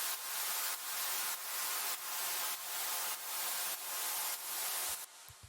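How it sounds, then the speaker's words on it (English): A washy noise hit synthesized in SynthMaster One, with a volume knob automated to fade it down, plays as a loud broadband hiss swelling in seven even rhythmic pulses before cutting off near the end. "I created a quick noise hit here using SynthMaster One"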